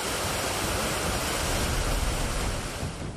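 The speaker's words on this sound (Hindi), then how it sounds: "पानी किसी बड़ी नदी की तरह बह रहा है।" Flash flood water rushing like a big river near Dharamshala, a loud, dense, continuous roar of churning water that stays steady and close throughout.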